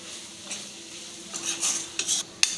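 A spoon stirs chikkudukaya (broad beans) with coriander powder in a pan, giving several short metallic scrapes and clinks over a soft sizzle.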